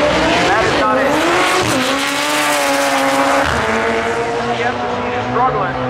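A 1992 Honda Civic with a B18C engine at a drag strip at Maryland International Raceway, its engine screaming loud and close with rising pitch and tire squeal as it launches, under an announcer's voice.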